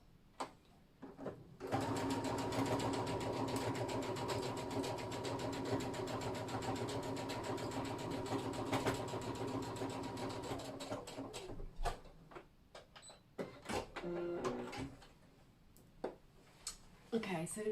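A sewing machine stitches a visible seam on Megan Nielsen Dawn jeans, running steadily for about nine seconds before stopping, followed by quieter scattered handling clicks.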